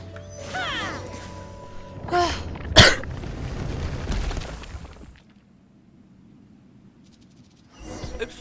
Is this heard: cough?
yes